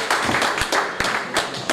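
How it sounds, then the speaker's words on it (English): Audience at a Swindon Fightclub fight night gives a round of applause for Darren Jones, steady mixed clapping with a few sharper individual claps standing out, moderately loud throughout. "Let's have a round of applause for Darren Jones"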